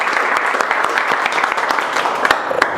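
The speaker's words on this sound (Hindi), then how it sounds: "हम एक बार शुरुआत करेंगे जोरदार ताली से" A class bursts into loud, fast applause, many hands clapping densely and close for the whole stretch.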